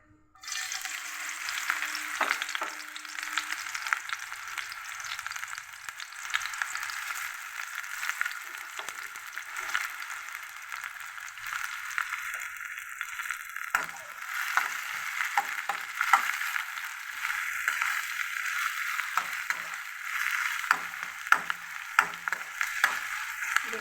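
Onions dropped into hot oil for a chicken fry, a steady bright sizzle and crackle that starts abruptly and continues for the whole stretch, with scattered small pops and stirring ticks, close and with no talking.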